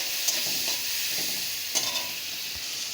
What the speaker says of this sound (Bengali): দিয়ে ভালো করে নেড়ে একটু ভেজে নেব